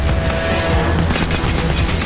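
Dense, continuous gunfire from a weapon switched to shotgun fire mode in the shooter game Crysis 3, loud and close, the shots blurring into an unbroken roar of blasts.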